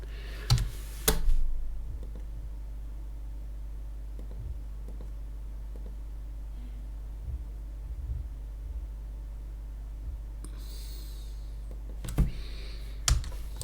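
Computer keyboard keys are pressed in a quiet room: a couple of sharp clicks open the stretch, sparse faint taps follow over a steady low hum, and a pair of crisp keystrokes lands near the end.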